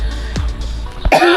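A person who is getting over the flu coughs a few times, loud and close. The coughs are short and harsh, with a sharp throat-clearing burst at the end, on a quiet farm.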